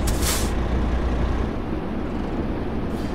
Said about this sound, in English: parking brake engaged